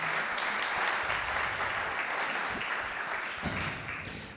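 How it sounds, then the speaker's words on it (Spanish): Steady applause from a crowd fills the whole stretch, dense and sustained, tapering slightly near the end. "Un aplauso para ellos, por favor."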